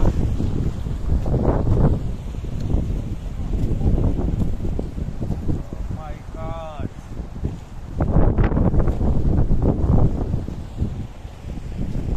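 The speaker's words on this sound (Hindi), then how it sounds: "इसे कहते हैं झरना।" Steady broadband rushing of falling water, loud and continuous like a nearby cascade on the Gomukh trek from Gangotri, with wind buffeting the microphone and a brief bird-like chirp midway.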